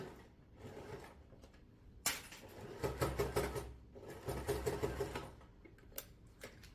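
A sewing machine runs in short bursts while back stitching the seam of a fabric storage cube bag, each run a quick rapid patter with brief pauses between, close and fairly quiet.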